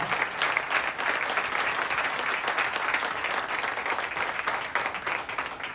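Loud, sustained applause from a temple congregation at a religious discourse during an anniversary festival at Vadi Mandir in Vadodara, a dense continuous wash of clapping filling the whole stretch without pause.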